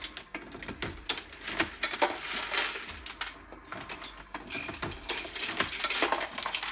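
A Dillon XL650 progressive reloading press cycles with rapid metallic clinks, clacks and rattles, near and fairly loud, in irregular bursts as the handle is worked and parts shift.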